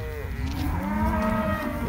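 Cattle low and moo during a long cattle drive to a farm paddock, with drawn-out overlapping calls from several animals close by, set against a steady outdoor background with no talking.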